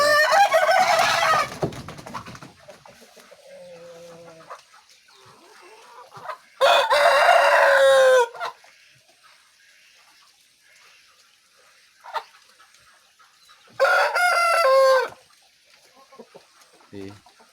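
Village chickens, ayam kampung hens and a rooster, call in a few loud bursts separated by long quiet gaps, with crowing and clucking up close and a faint murmur of background sound between the calls.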